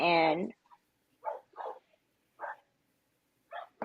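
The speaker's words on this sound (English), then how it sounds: "You got a dog And barking in the background." A dog barks in the background in a few short, separate bursts, with longer gaps between later barks; a brief whine-like vocal sound opens the clip.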